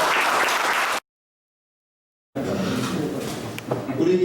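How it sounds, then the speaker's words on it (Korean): Seated attendees at a public discussion forum give a round of applause, crowd clapping that breaks off into a second of silence, then resumes with voices mixed in toward the end. "박수 한번 주시죠."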